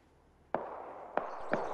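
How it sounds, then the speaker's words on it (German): Three sharp, fairly distant gunshot reports crack out one after another in the military video game Arma 3, each a single quick shot over low background noise. "Warum schießen die denn?"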